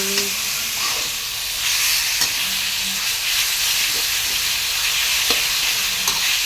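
Pork and kaffir lime leaves hit a hot pan and fry with a steady, loud sizzle and hiss. A few faint scrapes and taps from stirring come through, and there is no talk.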